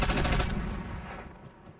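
A short burst of SMG fire in Black Ops 6, loud for half a second then cutting off into a decaying echo and quiet room tone.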